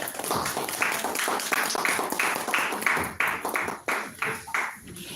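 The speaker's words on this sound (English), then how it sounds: "Other members can give a round of applause." Members of a Toastmasters club meeting clap for a speaker, a dense, fairly loud patter of hands with a rough regular pulse over a noisy room, with no speech.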